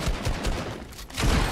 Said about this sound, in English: Oh, good pump shot,